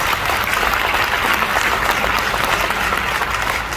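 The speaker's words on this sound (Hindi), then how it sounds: "मैं चाहूंगा एक बार जोरदार तालियां उनके।" A large audience at a motivational speaking event in Goa applauds loudly and steadily, a dense wash of clapping that holds for several seconds with no talk over it.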